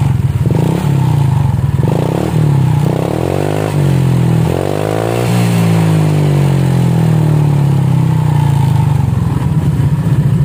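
Honda Vario 150 scooter engine running steadily and loud close by, with a rough clattering idle, a few short throttle blips that rise and fall in pitch, then settling back to idle.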